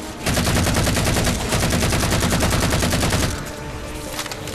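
Rapid automatic gunfire from the Halo 4 video game rattles loud and continuous for about three seconds, then falls away to quieter scattered shots and game noise.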